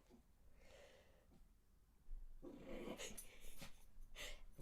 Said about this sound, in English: You might hear Beans barking a little bit in the background